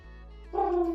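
A person's voice imitates a pigeon's call with a single short, low, throaty coo, close and fairly loud.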